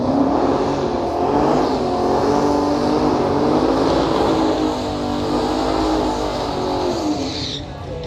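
At a street drag meet with roll racing, a race car accelerates hard, its engine droning loud and steady and climbing in pitch for about eight seconds before easing off slightly at the end.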